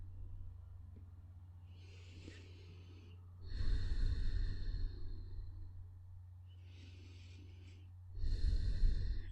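Slow, deep breaths during a yoga sun salutation sequence, two long audible exhale-like breaths close to the mic over a steady low hum, with quiet pauses between.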